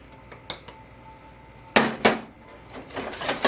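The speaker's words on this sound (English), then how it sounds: "And I'm stirring everything up in little quantities at first" Spices being stirred into zucchini bread batter, a utensil clinking and scraping against a mixing bowl with a few sharp knocks followed by rapid, busier scraping strokes.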